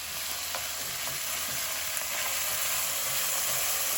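Chopped vegetables sauté in a pot for minestrone soup, a steady close sizzle with faint stirring scrapes and no voices.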